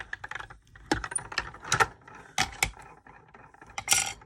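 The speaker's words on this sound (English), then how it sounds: "I'm just using my Sizzix Sidekick." A Sizzix Sidekick die-cutting machine being cranked makes a quick series of close, dry clicks and plastic clatters in an irregular rhythm, with no one speaking.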